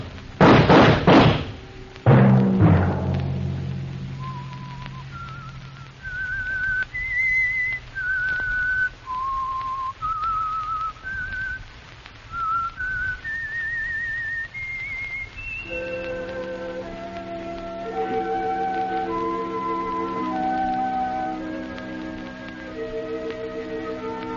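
A knock and a slam, then a lone whistled radio show theme of rising and falling notes from the vintage radio mystery The Whistler, followed by a faint orchestral line over soft rain-like hiss.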